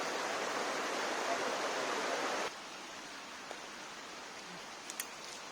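A river flowing through a countryside farm area, steady broadband rushing water that is louder for the first two and a half seconds and then drops to a softer continuous flow, with a few faint clicks.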